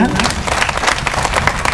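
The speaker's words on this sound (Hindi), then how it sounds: "ताली बजाएं जोरदार" A hall audience claps loudly and steadily at a spiritual talk on Raksha Bandhan, a dense, continuous patter of many hands that fills the whole stretch.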